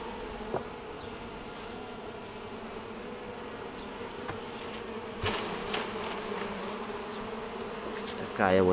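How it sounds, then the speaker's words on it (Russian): Buckfast honey bees buzz around hive frames during a honey harvest, making a continuous close hum with occasional knocks and handling sounds from the frames. "Пчелы не хотят ходить, ховаются по нижних планках."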